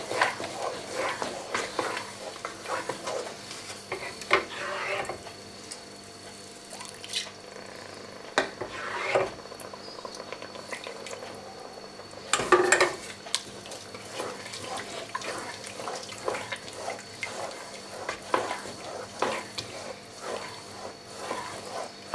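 Wet, soft swishing and scraping of a thick ham and chicken croqueta sauce being stirred in a pan, steady and close, with a few louder clatters along the way.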